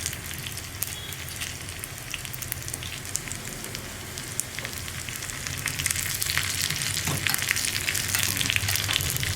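Dried red chillies and curry leaves frying with onion in oil for a Kerala cucumber dal curry, a fairly quiet crackling sizzle with scattered pops that grows busier and louder in the last few seconds, no talk.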